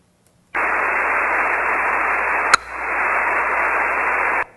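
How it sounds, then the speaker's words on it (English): Ham radio receiving an insulin pump sensor's signal: a steady hiss of static for about four seconds, broken midway by a single sharp, very brief chirp of a 9 millisecond transmission. "That little chirp is a 9 millisecond transmission from my sensor."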